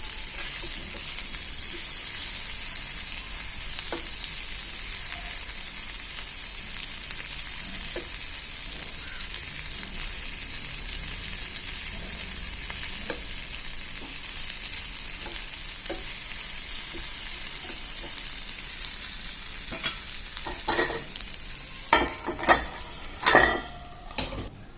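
Bitter gourd pieces frying in a pan, a constant soft sizzle with light stirring scrapes throughout, then a burst of louder clinks and scraping against the pan near the end, with no talking.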